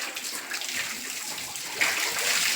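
A water hose sprays steadily while a horse is washed in a stable, making a continuous hissing splash at moderate distance that grows slightly louder near the end.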